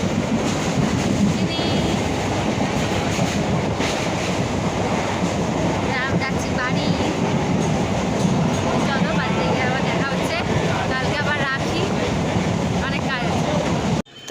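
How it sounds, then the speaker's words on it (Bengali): Steady broadband rumble and rattle from inside a moving passenger train, loud and continuous throughout, with faint voices mixed into the noise and a sudden cutoff at the very end. "আমরা ট্রেনে উঠে পড়েছি"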